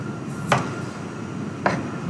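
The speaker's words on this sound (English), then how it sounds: "I'm going to trim the potato to get the shape that I want" Two sharp knife cuts through a peeled potato being squared up, each a brief crisp chop spaced about a second apart over a quiet background.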